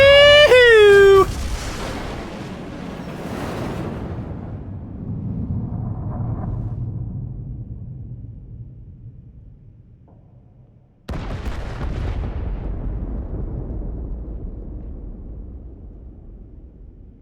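An explosion after a detonation in a Star Trek video game: a sharp burst, a long rumbling decay that fades over several seconds, then a second heavy boom that rolls on loudly.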